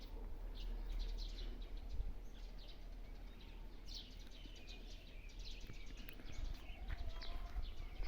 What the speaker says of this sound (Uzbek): Qushlarning ovozini ko'rib eshittirsizlar